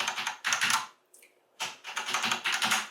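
Someone types on a Cherry MX Board 6.0 mechanical keyboard: two bursts of rapid, clattering keystrokes separated by a short pause, close and clear with no talking.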